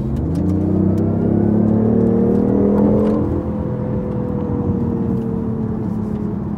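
A 2014 BMW i8 driving in sport mode, a loud continuous engine drone rising in pitch as it accelerates, then settling to a steady cruising hum inside the cabin.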